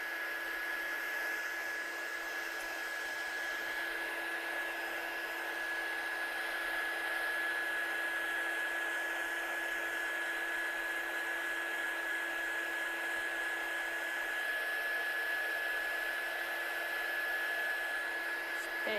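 A heat tool blowing continuously over ink on a handmade card for heat embossing, a steady whirring fan and airflow hiss with a constant whine, close and unchanging for the whole stretch.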